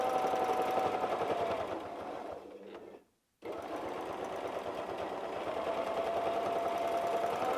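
A domestic sewing machine runs in fast continuous bursts while free-motion quilting egg and oval shapes, a close steady mechanical whir that briefly slows, stops for a moment of silence, then resumes at full speed.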